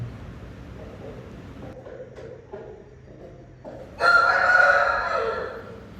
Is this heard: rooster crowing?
yes